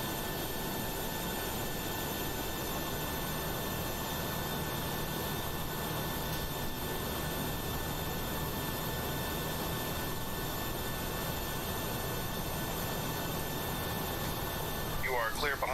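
Continuous cockpit engine drone and hum during a Boeing 737-800 pushback in a flight simulator, steady and unchanging, with a faint rising whine near the end.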